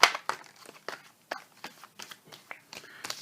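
A deck of tarot cards is shuffled up close, giving irregular crisp crinkling riffles and soft slaps in short bursts, with no voice over them.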